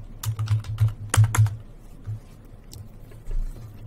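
Close, quiet typing on a computer keyboard during Excel work: a short run of key taps in an uneven rhythm, with a few louder strikes and then sparser presses.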